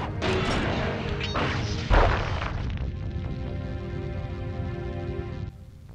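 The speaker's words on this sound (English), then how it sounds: "Break me out of this force field by smashing its base" Force field base being smashed in the Sly Cooper and the Thievius Raccoonus HD game, a dense crashing impact with a sharp hit near two seconds, then a sustained rumbling, humming mechanical crash that cuts off abruptly before the end.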